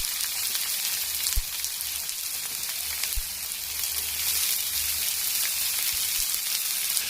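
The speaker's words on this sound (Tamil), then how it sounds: "இப்போ நான் நீல வாக்கில் கட் பண்ணி வச்சுருக்கேன் ஆனியனை சேர்த்துக்கிறேன்" Sliced onions frying in hot oil in a pan, a steady close sizzle with a few sharp pops and clicks, no talking.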